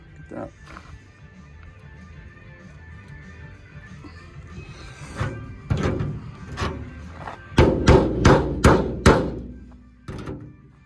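Hammering inside the metal door of a 1951 Ford truck built on a 2001 Ranger, using body hammers: scattered knocks and thuds, then a fast run of five loud metallic blows and a last strike nearby.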